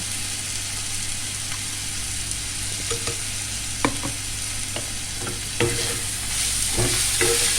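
Green chilli paste and ginger fry in a pan with a continuous bright sizzle, while a utensil clinks and scrapes against the pan in scattered taps, no voices present.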